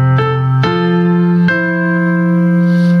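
A piano chord with an F in the left hand, from a sacred hymn arrangement, struck three times in succession, the last chord ringing out and sustaining clearly with no voices.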